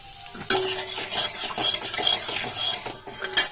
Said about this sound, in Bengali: কড়া পুরো গরম হয়ে গেছে এখন গোটা জিরে দিয়ে দেবো